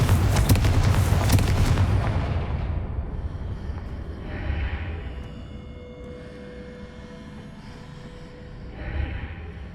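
A Confringo explosive spell blast in the Hogwarts Legacy video game erupts loudly at the start, then its rumbling boom fades into quieter ambient game sounds with faint distant whooshes.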